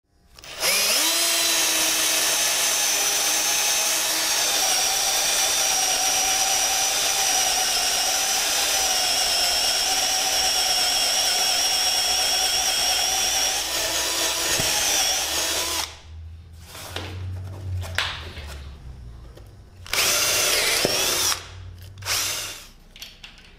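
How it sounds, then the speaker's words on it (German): A power drill with a post-hole style bit bores a bolt recess into wood for a workbench build, running loud and steady for about fifteen seconds, then stopping and starting in short bursts. "Den Bolzen lasse ich mit einem Pfostenbohrer ein."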